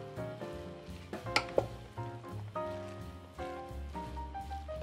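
Rice with bacon is stirred in a pot, with a soft sizzle and scraping under a few sharp clacks of the utensil against the pot, all faint and close, with background music throughout.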